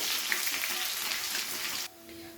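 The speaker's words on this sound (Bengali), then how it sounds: "রসুনটাকে দিয়ে হালকা ভাজা ভাজা করে নিতে হবে ভালো করে" Close sizzling of crushed garlic frying in a hot pan, a steady crackling hiss that cuts off abruptly, leaving a faint hum.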